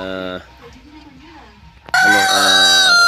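Rhode Island Red rooster of a vintage breeder line crows loudly and close, a long harmonic call in the final second, preceded by a shorter crow and quieter farmyard clucking.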